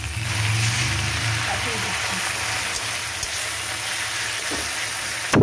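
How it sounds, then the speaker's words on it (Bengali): Tomatoes dropped into softened frying onions in a pan, a steady sizzle with light stirring and scraping, close and continuous, while a voice speaks over it. "আমি এবার দিয়ে দিচ্ছি টমেটো।"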